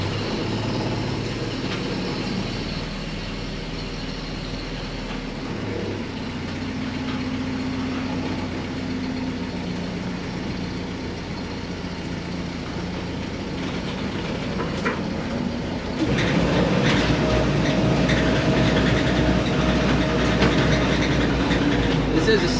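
A 1955 Jeep CJ5 with a 3-speed and overdrive runs steadily as it backs out of a shop, its low engine drone close and loud, growing louder and rougher near the end.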